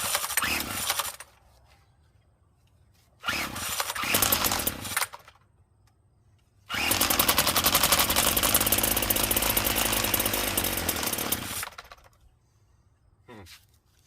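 Small two-stroke engine of an old McCulloch string trimmer, long unused, roaring loudly in bursts after carburetor adjustment, revving up and cutting off several times with quiet gaps between.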